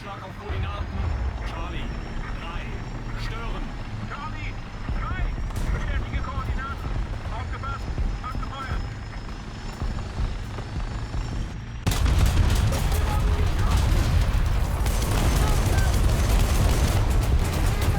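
War Thunder tank battle with a Leopard 2K, dense gunfire and booming artillery and tank cannon blasts rumbling continuously, growing louder and heavier near the end, under a player's voice.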